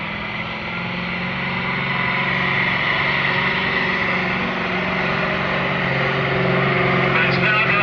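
A turbocharged Perkins V8 engine in a pulling tractor runs at a track, a loud continuous roar that builds slightly and holds steady, with a voice speaking over it.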